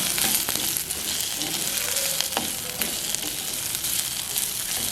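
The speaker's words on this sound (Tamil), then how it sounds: "இது பொன்னுரமாக வரும் மட்டும் முக்கால் பதம் வரும் மட்டும் வதங்கட்டும்." Salted onions and green chilies sauté in a pan for a Jaffna-style beetroot curry, giving a loud, steady, close frying hiss with a few faint clinks and stirring touches scattered through it.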